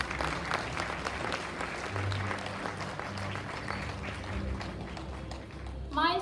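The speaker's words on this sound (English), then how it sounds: "Let us give a warm and well-deserved round of applause to the newly graduated class of" A graduation ceremony crowd claps continuously at moderate volume, a dense even patter with a low hum beneath and a brief voice near the end.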